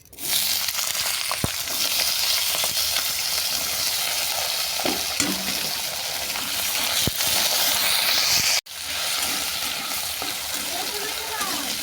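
Potatoes with black cumin seeds frying in hot oil in a pan, a loud steady sizzle running almost continuously with occasional stirring clicks and a brief cut near the end.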